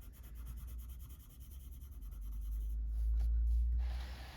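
Pencil or crayon rubbing steadily across a page of a colouring book, a continuous close scratchy stroking sound that swells slightly in the middle, with a low background rumble.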